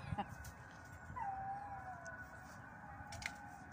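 Dogs howling in the distance in a garden setting while the call to prayer sounds, a faint, drawn-out, wavering wail over a low background murmur.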